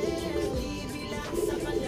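Soft, low cooing of homing pigeons arriving at a loft, close and fairly quiet, with light background noise.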